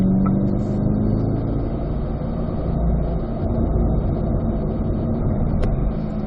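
A car on a racetrack, its engine droning loud and continuous under steady road and wind roar as it pulls along a straightaway, with no voices.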